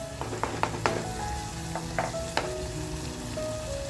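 Mutton and onions sauté in a pan over a slow flame, a steady sizzle and crackle broken by a few scraping stirs, close and moderately loud.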